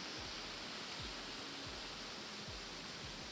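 Water pours over a weir on the River Thames, a steady broadband rushing wash with no breaks, faint and even throughout.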